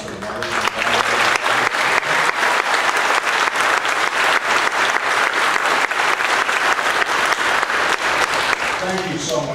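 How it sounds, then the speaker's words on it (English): A large graduation commencement audience at a public school ceremony breaks into sustained, loud, close applause, a thick wash of clapping that runs unbroken for nearly ten seconds before starting to thin at the very end. "Can we please have a round of applause for the mothers and grandmothers?"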